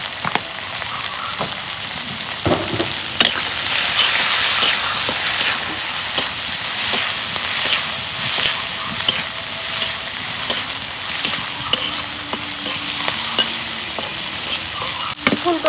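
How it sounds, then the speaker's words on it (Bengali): Green chillies and cumin sizzling in hot oil, a loud continuous crackle and spatter with scattered sharp pops and a few stirring clatters, close up and without talking. "কাঁচামরিচ তেলে দিলাম,"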